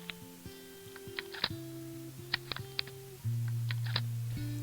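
Loosened guitar strings are snipped off one after another, giving scattered sharp clicks among faint ringing, humming string tones. The sounds are quiet and close.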